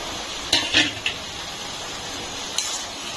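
Potatoes with turmeric stirred in a cooking pan for a banana flower curry: a few sharp metal utensil clinks close by over a steady frying hiss, with a final clink after a pause.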